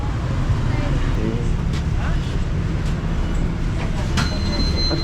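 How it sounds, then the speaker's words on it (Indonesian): A bus pulls up on a street in Hanoi, Vietnam, its steady engine rumble and road noise filling the scene, with faint squeals and clanks over the continuous low drone. "Hore, akhirnya datang bus kita ma friend."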